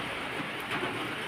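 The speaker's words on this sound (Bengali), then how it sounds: "দেখো রোদ ছিল, দেখো বৃষ্টি শুরু হয়েছে" Rain falling outdoors as a steady, even hiss with no distinct drops or talking.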